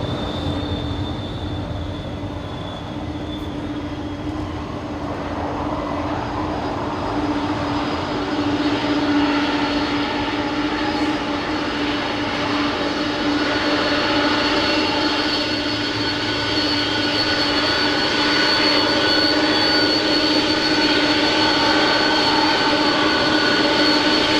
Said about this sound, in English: let's enjoy the 4 CF6 engines right in front of us.